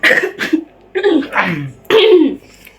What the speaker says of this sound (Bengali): ইদানিং যেমন প্রচুর কাশি